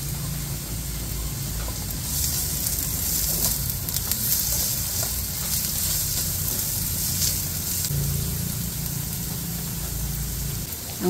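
Onions hit a hot pan where chicken feet adobo is cooking, and a loud, steady sizzle runs without a break throughout, close and dense with a faint crackle on top.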